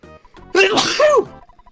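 A single loud, close sneeze with a sharp intake of breath before it, alone in a quiet room.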